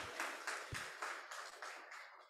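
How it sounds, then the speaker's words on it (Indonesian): A church congregation at an Easter service claps in a steady rhythm, a soft, fairly distant patter of regular beats that gradually fades. "Tepuk tangan buat Tuhan Yesus."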